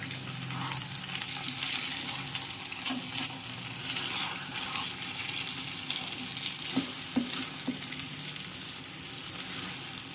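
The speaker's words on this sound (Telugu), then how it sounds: "మొవ్వంకాయ ఫ్రై చూసారా ఎంత బాగా ఫ్రై అయిందో" Brinjal (eggplant) frying in a pan with a steady, even sizzle that holds throughout, plus a few faint clicks near the end.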